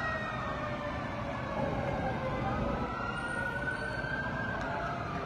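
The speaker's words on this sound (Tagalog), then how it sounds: "Ito na, nagsirating na yung mga rescue fire truck natin." Rescue fire truck sirens wail over a steady rumble of traffic and crowd noise as the trucks arrive at a building fire in Barangay South Triangle, Quezon City, loud and continuous throughout.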